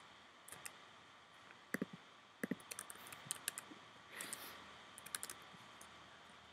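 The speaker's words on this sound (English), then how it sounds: "you're typing, right?" Quiet computer keyboard typing in irregular bursts of sharp clicks, close and faint, alone without talk.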